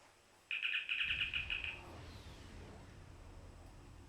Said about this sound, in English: And that chirp you heard was not the game. Yes, I have Star Trek sounds on my phone.